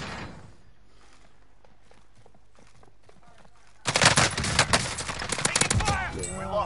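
Rapid bursts of video game gunfire in an online shooter on PS4 erupt suddenly after quiet footsteps and shuffling, loud and dense near the end of the clip.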